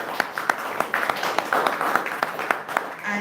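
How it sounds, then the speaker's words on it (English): Scattered applause for a student at a school for children with special needs, sparse individual claps at an uneven rhythm over a murmuring room. "so you give her a clap for that"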